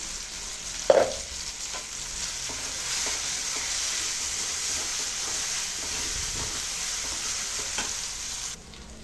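Cooked tomato being stirred with salt, turmeric and chilli powder for an egg pulusu with tamarind water, a steady sizzle and hiss throughout with a sharp spoon knock near the start and faint scraping, no talk.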